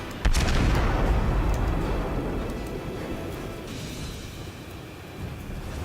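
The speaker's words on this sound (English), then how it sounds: "Oh my gosh, how many guns are those things are firing?" Massed ship guns firing in World of Warships aboard the cruiser Königsberg, opening with a sharp heavy boom that rolls into a long, dense rumble of sustained salvo fire and fades gradually.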